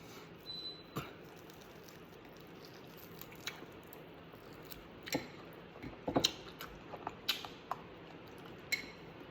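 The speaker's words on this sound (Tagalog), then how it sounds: "Sarap pakinggan yung ulan eh." Rain falls steadily outdoors as a soft, even wash of noise, broken by scattered louder drips and taps close by.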